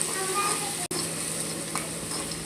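Garlic fries in hot oil with a loud, constant close-up sizzle and occasional stirring, two very short dropouts breaking the steady hiss.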